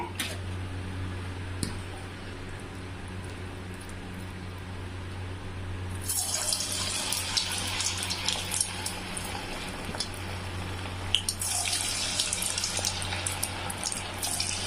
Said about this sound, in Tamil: எண்ணெய் நல்லா காஞ்சிருச்சுங்க. நம்ம ஒன்றா போட்டு நம்ம பொரிச்சுக்கலாங்க.